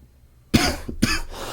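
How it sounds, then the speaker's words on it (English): Two close, sharp coughs after a brief silence, the second slightly rougher, up close and alone. "my apologies for the coughing"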